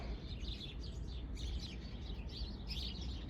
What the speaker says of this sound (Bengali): পাখিদের গান শুনতে পাচ্ছেন?